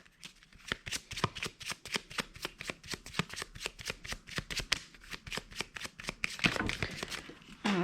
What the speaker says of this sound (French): j'ai des cartes qui tombent par terre